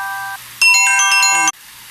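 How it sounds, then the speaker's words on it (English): A mobile phone ringtone sounds during a grill pan cooking workshop: a loud, bright electronic melody of quick tones lasting about a second, after a softer tone and before it cuts off. "My phone was ringing."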